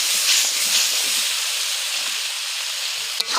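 Water poured into a hot pan of egg curry masala with Kashmiri chilli powder sets off a loud, steady sizzling hiss that holds for several seconds, ending with a small clink, and no one speaks.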